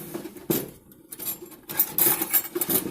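A knife scrapes and clinks inside a metal pan to pry out a piece of cooked food, with a few close metallic taps and scraping strokes in quick bursts.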